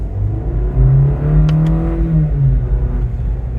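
A Cadillac CT4-V engine revs in a steady, loud, throaty drone while its 10-speed automatic is shifted with the paddles, the pitch rising and then dropping with a brief click near the middle, heard from inside the car without talk.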